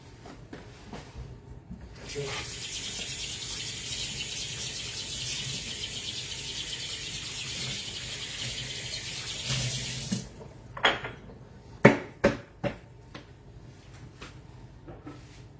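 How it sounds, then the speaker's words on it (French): A kitchen tap runs steadily for about eight seconds while hands and a baking mould are rinsed under very hot water, then stops, followed by several sharp knocks and clatters of the mould and sink. "On doit se laver les mains et passer notre moule sous l'eau très chaude."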